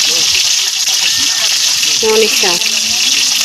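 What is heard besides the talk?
fish frying in a pan for escabeche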